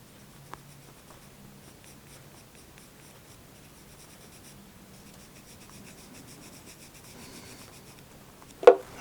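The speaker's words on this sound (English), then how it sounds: "I go ahead and put some pencil on the bottom." Pencil graphite rubbed back and forth on the underside of a new violin bridge during repair, a soft steady scratching that runs throughout and ends with a couple of sharper taps.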